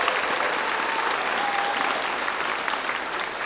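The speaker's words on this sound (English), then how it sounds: "Let's give her a round of applause." An audience at a high school graduation gives a graduating student a round of applause, continuous, dense clapping that holds at an even level throughout.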